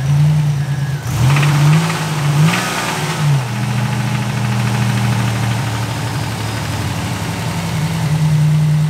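A Buick Grand National engine, rescued from storage, runs with a shake: a loud, close, low idle with an uneven, knocking throb and a brief rev near the start before settling back to a rough steady rumble.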